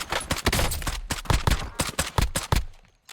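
An assault rifle in Call of Duty Warzone fires in rapid, loud, close bursts of repeated shots that stop abruptly near the end.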